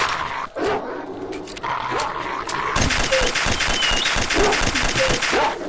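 Packs of dogs barking in a deserted settlement in S.T.A.L.K.E.R. Oblivion Lost Remake, with repeated sharp barks and yips growing dense and loud in the second half over a noisy, rumbling game backdrop.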